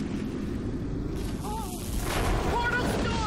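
Rumbling, booming portal storm in the video game Half-Life 2: Episode Two, a dense low roar that swells toward the end, with brief tonal sweeps and effects layered over it.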